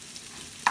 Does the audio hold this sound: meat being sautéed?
yes